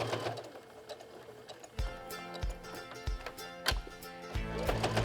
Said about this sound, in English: Sew all the way around